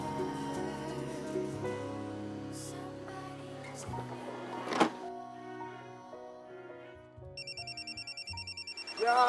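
A telephone rings near the end, a quick series of evenly spaced electronic trills. Before it comes a quieter stretch of mixed indoor sounds and a sharp thunk.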